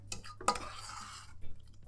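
A spoon scraping and stirring coconut and sugar in a pot for Jamaican gizzada, a few soft clinks and rubbing strokes close by, quiet overall with short pauses between them.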